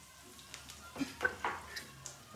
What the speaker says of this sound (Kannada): ಅದನ್ನು ಹಾಕೊಂಡು ನೀಟಾಗಿ ಈ ಥರ ಫ್ರೈ ಮಾಡ್ತೀವಿ